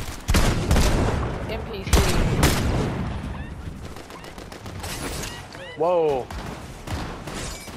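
Gunfire in Fortnite comes as loud, sharp volleys of shots early on, then tails off into scattered, fainter pops. A player talks briefly in between, and a rising whoosh effect sounds near the end.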